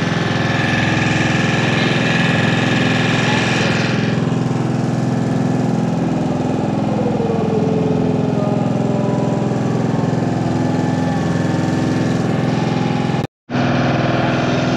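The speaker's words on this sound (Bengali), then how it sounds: "আর এই মোটামুটি এন্ড পয়েন্টে এসে এখান দিয়ে আবার বোটটা ঘুরিয়ে নিচ্ছে।" A motor boat engine drones steadily and loudly up close on Chilika lake as the boat turns around near an island, a constant mid-pitched hum with a brief dropout near the end and no talk.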